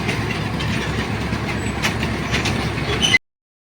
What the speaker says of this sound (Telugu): ట్రైన్ అయితే పిల్లలు ఇద్దరు ఎక్కిరు, తిరుగుతుంది.